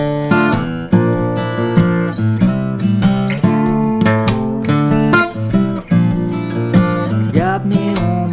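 Fingerstyle acoustic guitar playing a chorus in the unplugged style, with bright plucked notes and strummed chords ringing out in a steady rhythmic pattern, close and clear with no voice.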